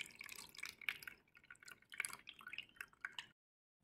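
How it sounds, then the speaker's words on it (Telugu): Cooled homemade rose water is strained, giving quick irregular drips and small splashes of liquid falling into a container, close and delicate, stopping abruptly into silence. "ఈ విధంగా చల్లారిన రోజ్ వాటర్ను స్ట్రెయిన్ చేసుకుని"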